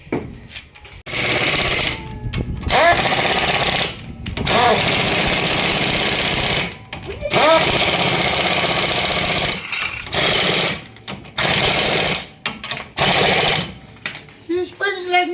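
A freshly replaced stub axle and wheel hub on a Nissan 1400 spins in a series of loud, rattling mechanical bursts, each lasting a second or two, separated by brief pauses.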